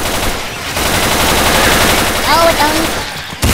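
An AK-47 rifle fires in sustained rapid bursts in Left 4 Dead 2 during a zombie fight, loud and close, while players talk excitedly over the gunfire.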